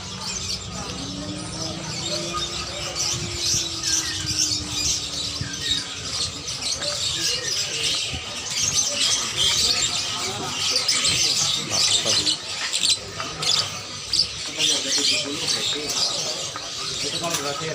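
Dense, busy bird chatter of many caged birds at Pramuka bird market in East Jakarta, steady chirps and squawks throughout with market voices and bustle mixed in.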